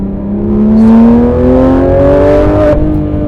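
A loud, raw Porsche 991.2 GT3 RS engine, heard from inside the car with no sound dampening, revs steadily upward in pitch, droning close by with no talk.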